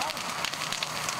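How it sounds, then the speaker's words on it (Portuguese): Grass fire burning through a green vacant lot beside a shopping mall, a dense continuous crackle and hiss of flames, fairly faint and steady with small pops throughout. "O fogo começou na área verde deste terreno particular que fica ao lado de um shopping"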